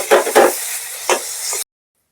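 Tomato with spices sizzles in a pan for chana masala, with a few sharp hissing bursts of stirring followed by a short steady fry before it cuts off.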